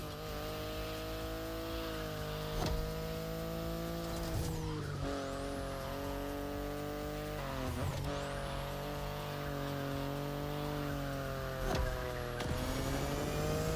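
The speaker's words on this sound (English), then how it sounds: "The BMW i8 is a car that stands out from the crowds." A BMW i8 in The Crew: Motorfest drives with a steady engine drone. It is broken by a few short tire squeals and quick shift dips, and no one speaks.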